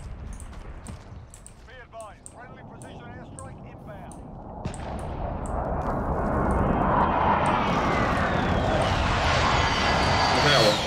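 Aircraft engine roar from an air strike in the video game Call of Duty Warzone swells from about five seconds and holds loud to the end, over gunfire-like clicks and a voice speaking early on.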